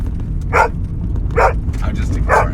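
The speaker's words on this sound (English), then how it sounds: "We'll just have to listen to him bark for a minute." A worked-up dog barks indoors in three loud, spaced bursts over a low rumble, with a person talking nearby.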